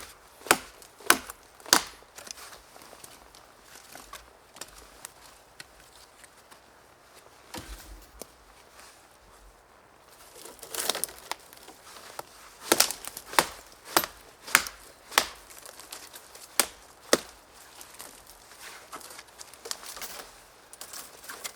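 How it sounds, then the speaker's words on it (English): A bushcraft knife cutting off small branches outdoors, giving sharp woody chops and snaps at an irregular pace, sparse at first and then coming in quicker clusters, close and fairly crisp against a quiet background. "This knife is also brilliant to cut off these small branches."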